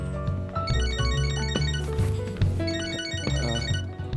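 Phone ringtone in Catherine Full Body plays a bright looping melody over a layered game music backdrop, steady and fairly loud with no talk.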